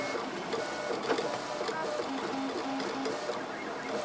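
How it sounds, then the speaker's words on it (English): A modified RepRap 3D printer with a tight carriage racing through infill: rapid buzzing stepper-motor whine in quick repeating back-and-forth bursts, close and steady, with a faint voice underneath. "It'll really move quickly on the infill here in a moment."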